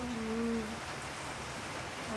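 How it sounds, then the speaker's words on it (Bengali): Heavy rain falls in a steady, even hiss. A short hum of a voice sounds at the start. "সকাল থেকে খুব বৃষ্টি হচ্ছে"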